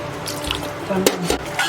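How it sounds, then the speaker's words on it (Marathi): Water is poured into mashed pav bhaji in a pan, a short splashing pour with a few drips and a faint pan clink, close by, partly under a voice. "आता त्यामध्ये मी पाणी घालून घेते."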